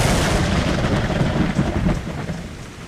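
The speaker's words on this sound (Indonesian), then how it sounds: "tiba-tiba hujan deras disertai petir" Heavy rain pours down steadily and loudly with rumbling thunder underneath, a dense continuous roar with no voices.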